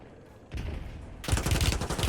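Gunfire during a Warzone match: a muffled rumble of shots swells after a moment into a louder, dense volley that continues to the end.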